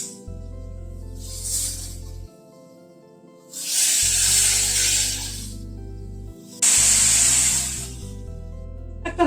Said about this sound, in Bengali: নুন হলুদ দিয়ে ঝিঙেটাকে নাড়াচাড়া করে নিচ্ছি।